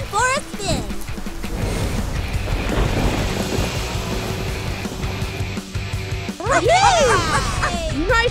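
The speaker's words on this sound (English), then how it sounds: "Get this storm under control." A toy-play thunderstorm effect from a PAW Patrol story rumbles loud and continuous, with lively character voices and chirpy sound effects around it.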